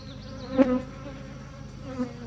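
Honeybees buzzing at a backyard hive, a low steady drone with a couple of louder passes as individual bees fly close, no talking.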